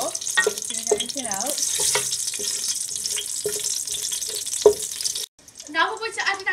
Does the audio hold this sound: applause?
no